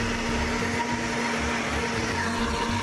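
Homemade kefir ingredients, sunflower seeds and water, whirring in a kitchen blender, a steady loud motor drone with a constant hum running unbroken throughout.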